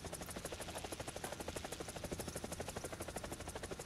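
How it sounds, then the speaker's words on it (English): An AH-64 Apache helicopter in War Thunder thrums with steady, rapid rotor blade pulses throughout, a constant buzzing chop at moderate level with no voices. "Yeah, she's a cool helicopter."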